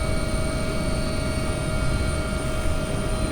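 A helicopter in flight gives off a steady, loud drone of engine and rotor noise with a constant whine on top, unbroken and close throughout.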